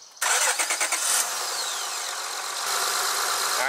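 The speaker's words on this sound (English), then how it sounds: "Turn the car on." A Honda Accord engine cranks with a quick rhythmic starter chatter, then catches and settles into a steady, loud idle close by.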